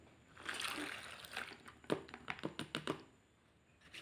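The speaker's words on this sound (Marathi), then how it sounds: "तर हे आता पाण्यात आधी घालायचे असे" Sprouted beans go into water as a soft splash followed by a quick run of small splashes and knocks, close and fairly quiet.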